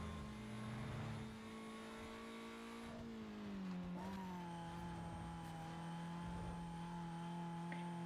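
A Golf GTI and a nearly stock Chevy Cobalt race in Need for Speed Most Wanted, engines droning in a sustained tonal hum whose pitch dips and shifts as they change speed, moderately quiet with no talk.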